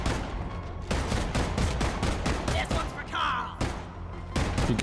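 Automated turrets firing in the video game Deep Rock Galactic, rapid repeated gunshot bursts with short gaps, loud and close, with players talking in German over the shooting.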